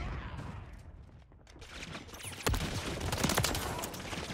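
Gunfire in Modern Warfare 3, a scattered series of sharp distant shots and short bursts that grow denser after a brief lull, heard alone without talk.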